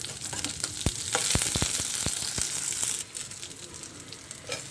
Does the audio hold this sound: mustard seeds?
yes